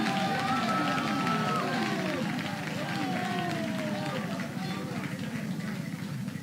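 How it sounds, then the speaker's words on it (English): A large school crowd at a high school debate quarterfinal cheers and applauds the debaters, a dense, steady roar of voices and clapping with shouting that holds throughout. "Hail these debaters. Applaud them."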